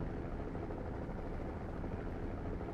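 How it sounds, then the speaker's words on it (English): Helicopters flying overhead in the video game Sanabi give a steady, loud, dense rotor drone that holds unbroken throughout. "Helicopters currently flying above SNB target location."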